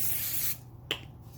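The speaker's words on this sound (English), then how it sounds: "I spray it" Cooking spray hissing onto a bread pan for colored dough, a close half-second burst of aerosol that cuts off sharply, followed by a brief light clunk.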